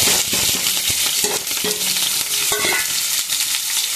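Cumin and onion fry in hot oil for fried rice, a bright continuous sizzle punctuated by repeated clinks and scrapes of a spoon stirring in the pan.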